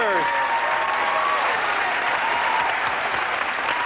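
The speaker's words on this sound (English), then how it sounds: "A round of applause for the Munsters." A studio audience applauds the Munsters at a TV show taping, a steady, dense wash of clapping with a few voices calling out within it, fading slightly toward the end.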